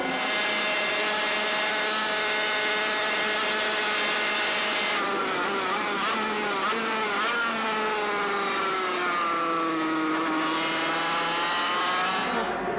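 Racing motorcycles screaming through the last lap of the Italian Grand Prix, several high-revving engines whining loud and close, pitch rising and falling with gear changes as the pack sweeps past.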